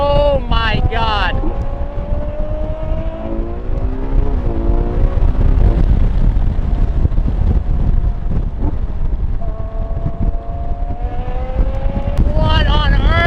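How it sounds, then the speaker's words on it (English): A Ferrari Monza SP1 accelerates hard, its engine climbing through rising gear sweeps and shifting, buried under heavy roaring wind buffeting on an open road, loud and close. "This acceleration with all the wind noise is just so crazy."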